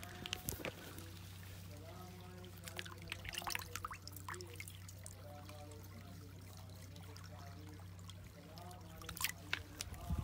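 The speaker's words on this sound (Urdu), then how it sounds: "یہ امام حسن علیہ السلام کا چشمہ ہے" Spring water of Imam Hassan in Iraq, about fifty kilometres from Najaf, trickles and drips softly under a steady low hum, with scattered splashes and faint background voices.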